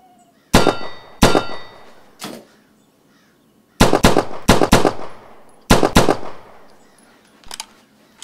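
Gunshots ring off steel targets in the Practisim VR competition shooting game, coming in sharp, loud clusters of two to four with metallic clangs and brief quiet gaps between groups.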